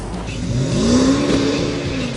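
A BMW 550i accelerating hard under full throttle, its engine note climbing steadily in a continuous rising drone over road and wind noise, with no voices.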